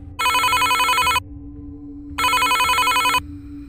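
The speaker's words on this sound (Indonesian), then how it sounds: "Tiba-tiba, telepon rumah berbunyi." A home telephone rings twice, two loud, bright electronic trills about a second each with a clear pause between them, alone against a quiet low background hum.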